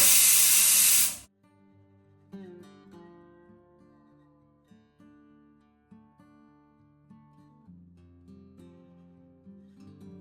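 A pressure cooker lets off a loud, dense burst of hissing steam for about a second, then it cuts off abruptly and soft background music takes over.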